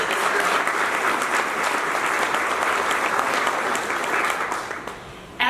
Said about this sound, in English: Let's give a round of applause to this group.